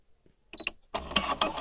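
A Brother SE-400 sewing machine trims its thread: a few short mechanical clicks, then a louder whirring, rattling burst from the machine close by, with no talking.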